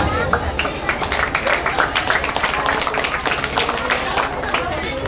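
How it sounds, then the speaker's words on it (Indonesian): Children at a Qur'an school gathering clap their hands together, a dense rapid patter of many small hands mixed with voices and crowd chatter, loud and close. "Ayo, tepuk tangan."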